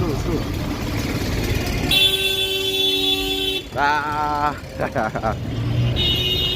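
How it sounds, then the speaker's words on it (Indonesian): Car horns blare in busy street traffic in Egypt, one long sustained honk followed by several short toots, loud and close over engine noise and voices. "Klakson berbunyian di mana-mana teman-teman."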